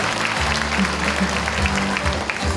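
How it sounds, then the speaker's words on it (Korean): Steady applause from a crowd at a talk concert fills the space, dense clapping continuing throughout while low background tones hum beneath it. "큰 박수로 맞이해 주시기 바랍니다."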